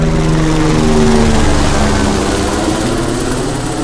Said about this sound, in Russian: О, вертолет.